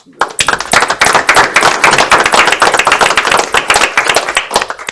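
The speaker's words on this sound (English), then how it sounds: "I'd ask if we would give them a round of applause." An audience at a school board meeting gives a sustained round of applause, dense overlapping clapping that starts within the first half second and carries steadily for about five seconds with no talking.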